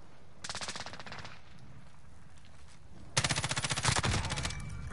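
Automatic gunfire in Call of Duty Warzone, two rapid bursts of shots, a shorter one early and a louder, longer burst near the end, with no talk over them.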